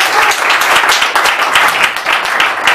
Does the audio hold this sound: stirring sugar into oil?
no